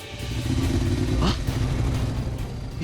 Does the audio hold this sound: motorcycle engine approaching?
yes